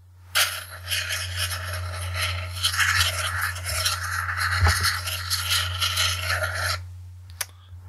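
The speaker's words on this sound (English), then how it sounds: "Fuse, ignite and burn." Sound effect of a fuse igniting and burning: a steady rasping, fizzing hiss that runs for several seconds over a low hum, with a brief flare near the middle before it cuts out.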